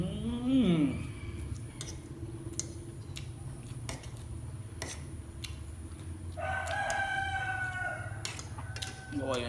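A rooster crows, with a short call at the start and a longer, drawn-out crow near the end, amid scattered sharp knocks and quiet background sounds.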